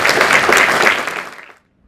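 An audience at an eloquence contest applauds a returning speaker, a short, close, full burst of clapping that ends abruptly into silence after about a second and a half.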